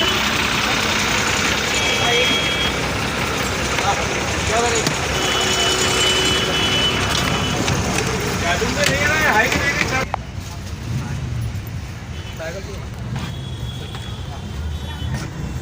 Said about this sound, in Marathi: तुझी गाडी आली